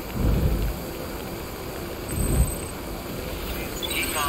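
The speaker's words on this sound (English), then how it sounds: "Oh no, it's raining!" Rain and rolling thunder in the video game Death Stranding, with low rumbles swelling twice over a steady hiss of rainfall; a faint voice may sit beneath.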